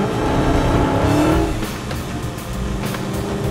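A Dodge Charger SRT Hellcat's loud engine roars and revs at Pocono Raceway, then drops to a steady rumble as the car moves on.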